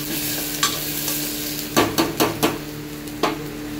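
Potatoes fry in a pan with a steady sizzle, while a utensil scrapes and stirs in a few distinct strokes, clustered near the middle and once more toward the end.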